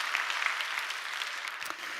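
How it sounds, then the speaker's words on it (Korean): A church congregation applauds during a Sunday worship service, a dense, steady wash of many hands clapping together at moderate volume for about two seconds, with no talk over it. "우리 박수로 격려합시다."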